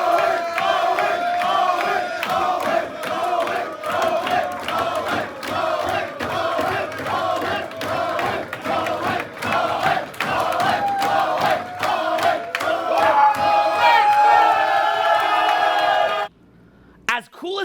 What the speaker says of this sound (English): So do you guys see how when I came in here, you guys were cheering for me?